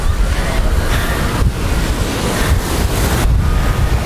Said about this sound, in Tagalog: Pero ngayon maalon, eh.